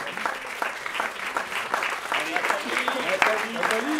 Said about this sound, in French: On applaudit Nathalie Mélu